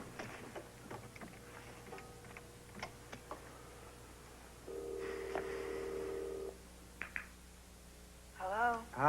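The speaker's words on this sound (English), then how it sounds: "Look, I need to use the phone, okay?" A telephone being dialed indoors, with a series of short button clicks and tones, then a steady tone for a couple of seconds, followed by a few faint beeps, heard close with some background noise.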